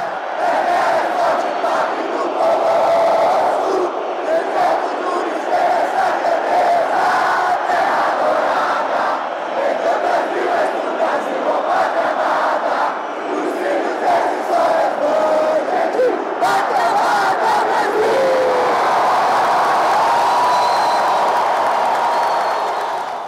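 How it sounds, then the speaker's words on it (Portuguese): Euphoric football supporters fill Mineirão stadium in Belo Horizonte with a dense, sustained roar of cheering and chanting as Brazil's players take the field, loud and continuous throughout. "Uma multidão eufórica acompanha este momento tão esperado"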